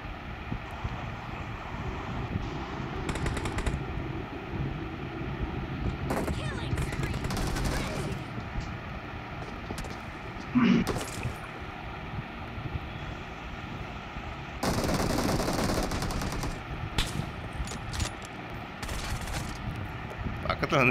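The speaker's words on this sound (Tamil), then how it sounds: "பக்கத்தில் வந்து நின்று சுட்டுட்டு இருக்காண்டா ஒருத்தன்" Gunfire in a mobile shooter game: bursts of automatic shots and scattered single rounds ring out over steady wind-like game ambience, with one sharp close shot standing out midway and people talking throughout.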